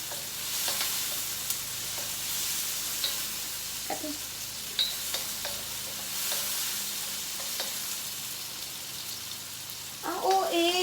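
Tomatoes and onion sauté in a hot pan for chicken curry, giving a steady close sizzle with scattered spoon scrapes and stirring clicks throughout, and a louder clatter near the end.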